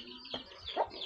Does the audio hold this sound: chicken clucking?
yes